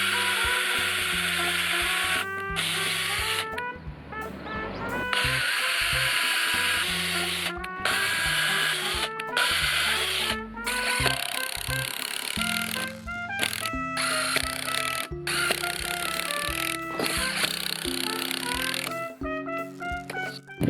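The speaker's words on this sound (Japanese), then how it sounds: "ここにビスをバンバンバンバンと4本ですね、打っていきたいと思います。" A drill drives wood deck screws into a wooden beam for a deck foundation: repeated whirring bursts whose motor pitch steps up and down, broken by short pauses, loud and close.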